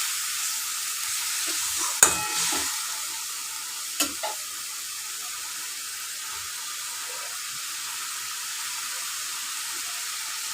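Chicken curry sautés in a pan under a steady, hissing sizzle, with a couple of sharp utensil scrapes and clinks early on. After that the frying runs on evenly and alone.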